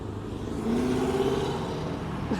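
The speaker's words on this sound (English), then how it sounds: "G8 Pontiac." Pontiac G8 engine revving at a busy street car meet, a steady throaty rumble that rises in pitch as the revs climb and holds loud and close, with crowd noise in the background.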